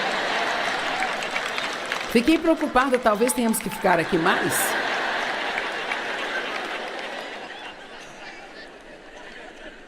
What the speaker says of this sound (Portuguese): Bem, isso não merece tantos aplausos, não é mesmo?